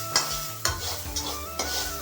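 Potatoes being stir-fried in a pan in a room kitchen, with a steady sizzle under repeated scraping stirs of a utensil, about four distinct strokes over a couple of seconds, close and fairly loud.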